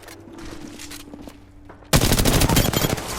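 Heavy burst of automatic gunfire in a battle-royale shooter match, erupting suddenly and loudly after a quieter stretch and continuing as rapid overlapping shots.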